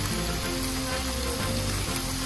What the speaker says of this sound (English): All right, minute number 2 of frying.